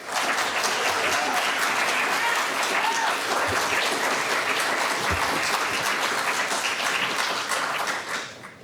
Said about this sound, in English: we don't allow applause in this council chamber